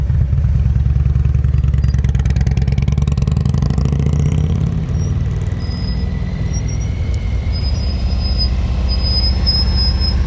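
A motorcycle idling and creeping along at slow speed during riding practice in Texas, with a steady low engine rumble and faint high squeaks from the brakes.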